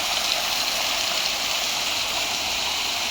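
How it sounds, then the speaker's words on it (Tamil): Natural mountain water flowing at a hotel near Dharamshala and McLeodganj, a steady close rush of water with no pauses or variation. "மலையிலேருந்து டைரெக்டாக நேச்சுரல் வாட்டர் தான் ஃபுல்லாகவே."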